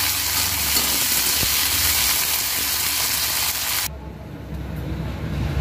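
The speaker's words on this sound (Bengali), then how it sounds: "উচ্ছেটা একটু ভেজে তারপরে তুলে নেব।" Bitter gourd pieces sizzle in hot oil in a pan, a dense, steady frying hiss that cuts off sharply partway, leaving a quieter low background.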